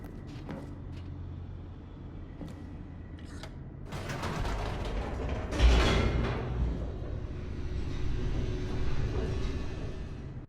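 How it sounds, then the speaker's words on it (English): An elevator descends in The Stanley Parable video game with a mechanical rumble and grinding creaks. A few ticks come first, then the sound swells with a heavy thud midway and keeps rolling steadily to the end, with no voices. "The elevator raced downward, plummeting towards an unknown fate."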